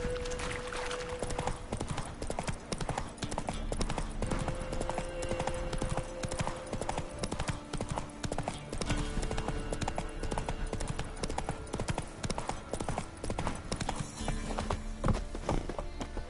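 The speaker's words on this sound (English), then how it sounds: "horses racing?" Horses galloping, a dense, continuous rhythmic clatter of hooves clip-clopping close by, steady and fairly loud throughout with a few faint tonal sounds in the background.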